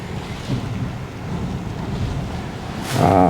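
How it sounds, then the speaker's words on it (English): Ocean waves on the Cape Breton, Nova Scotia coast after Hurricane Fiona wash in with a steady roar, heavily buffeted by wind noise on the microphone, swelling louder near the end. "The waves are a little big, but they're not as bad as what I would have thought."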